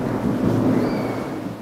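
Thunder rumbles outside during a storm, a continuous deep roll with rain noise, steady and fairly loud with no voices.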